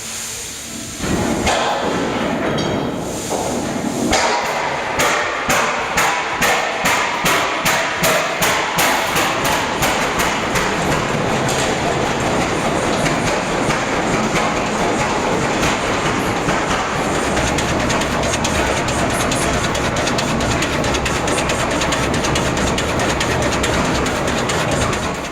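Vintage two-cylinder engine built 1912 to 1914, 30 horsepower at the drawbar and 60 at the belt, starting up then running with a loud, steady rhythmic chugging beat close by, no talk.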